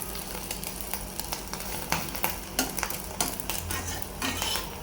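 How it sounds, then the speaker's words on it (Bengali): Egg frying in a kadai, a deep wok, with no onion added: a steady, close sizzle and crackle runs throughout, broken by occasional sharper scrapes and clinks of a utensil stirring against the metal. "ফ্রাই প্যানের চাইতে কড়াইতে ডিম ভাজি করলে সেই ডিম ভাজিটা অনেক টেস্ট হয়"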